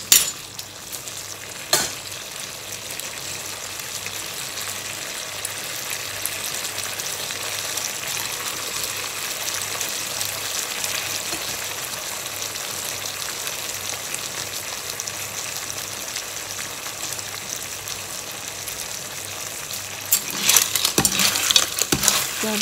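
Baby clams (pipis) frying in a pan, a steady dense sizzle throughout with occasional clinks and a burst of stirring and shell clatter near the end.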